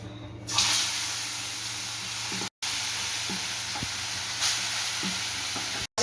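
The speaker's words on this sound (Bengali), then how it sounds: "তেলটা গরম আছে, এবার আমি মাছগুলো ছেড়ে দিচ্ছি একে একে।" Katla fish pieces fry in hot oil, a loud steady hiss and sizzle filling the space, with a couple of abrupt gaps and a few faint clinks.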